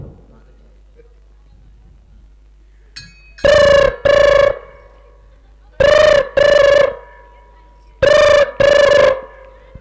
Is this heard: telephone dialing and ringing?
yes